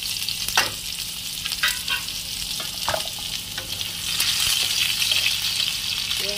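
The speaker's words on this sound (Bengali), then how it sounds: "পেঁয়াজটাকে একটু ভেজে নিয়ে টমেটো দেবো" Onion frying in oil in a pan, a dense close sizzle with intermittent stirring scrapes and light clatter, growing slightly louder toward the end, no speech.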